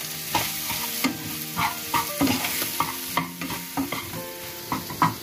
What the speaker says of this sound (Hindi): आलू को अच्छे से भून लेंगे।